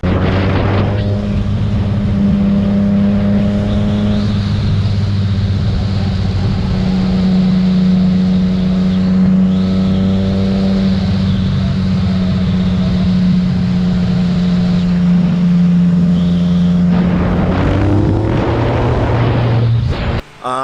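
Honda CBR600RR sport motorcycle heading out on a test ride after new front brake rotors were fitted, its engine a loud steady drone with rising and falling revs as it shifts through gears, close and continuous for the whole stretch.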